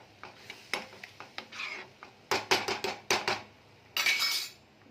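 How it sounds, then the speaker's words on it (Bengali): Spoon scraping and clinking against a pot while stirring a potato curry with garam masala, a series of close, irregular metallic scrapes and taps that grow denser and louder, with no voices. "একটু নাড়িয়ে দেব।"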